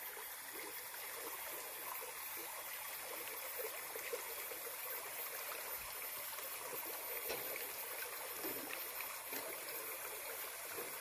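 A river flows in a continuous rushing, gurgling wash beside a hillside near rice fields, steady and fairly faint with no voices.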